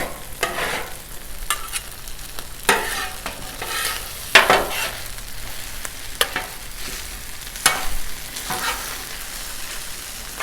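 Shrimp fried rice cooking on a hot Blackstone flat-top griddle: a loud, continuous sizzle with repeated scraping and clacking of spatulas pushing and turning the rice, no voices.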